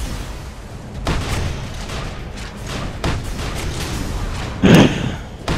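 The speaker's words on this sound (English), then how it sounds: "Grenade." Grenades in the sci-fi shooter game Tribes: Ascend go off as several dull booming thuds, the loudest burst near the end, amid busy game noise.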